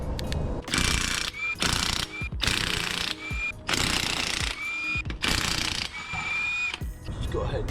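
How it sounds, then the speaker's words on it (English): Wheel and tire being pulled off a 2008 Honda CR-V during ball joint work, with repeated bursts of loud ratcheting and rattling mechanical noise separated by short pauses. "Let's go ahead, rip off the tire"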